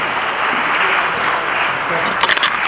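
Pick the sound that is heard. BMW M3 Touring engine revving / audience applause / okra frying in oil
audience applause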